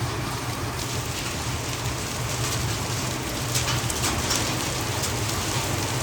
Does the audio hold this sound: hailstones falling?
yes